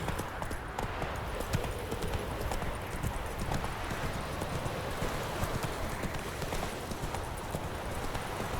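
A horse in The Witcher 3 galloping, its hooves pounding out a fast, continuous clip-clop at close range with steady rhythm and a faint rustle of tack, no voices over it.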